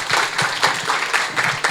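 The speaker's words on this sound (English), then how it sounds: "Let's give another round of applause." A small conference audience gives a short round of applause at the close of a panel session. Scattered hand claps come in a loose, uneven patter at close range, with no talk over them.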